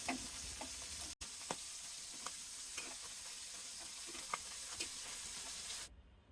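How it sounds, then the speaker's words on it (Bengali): Tengra fish fry in oil in a pan, a soft steady sizzle with scattered small pops and crackles throughout, heard close with no speech, cutting off near the end. "এভাবে সবগুলো মাছ আমি ভেজে নেব।"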